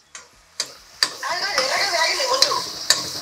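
Onions fry in a pan with a soft, continuous sizzle, punctuated by several sharp taps and clicks of a utensil against the pan at close range.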